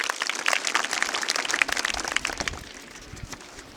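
An audience applauds a quiz contestant at a Shiv Jayanti question-and-answer event. Dense, lively clapping lasts about two and a half seconds, then thins out and fades to near quiet.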